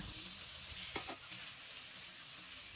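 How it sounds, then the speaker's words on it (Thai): Pork stir-fried in oil with pounded chili and garlic sizzles steadily in a pan, with a brief burst of scraping and stirring near the start, then a continuous close frying hiss with no talking. "เราจะผัดไปเรื่อยๆนะคะ จนกว่าหมูของเราจะสุกค่ะ"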